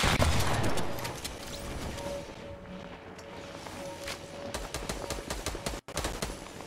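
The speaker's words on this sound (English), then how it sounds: "I don't know where the shots are coming from." Gunfire in a Fortnite match, dense bursts of rapid shots and cracks layered in a busy game mix, steady and fairly loud throughout with a brief dropout near the end.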